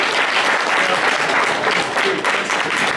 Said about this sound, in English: Give another round of applause for my good friends Heart to Heart who brought me here today.